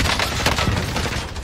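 Gunfire in the Call of Duty Warzone video game forms a brief, dense and loud stretch of rapid, overlapping shots with no clear gaps.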